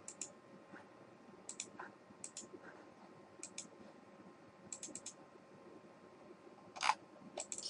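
Sparse, crisp computer mouse clicks, single and in quick pairs, close and fairly quiet over a faint room hum.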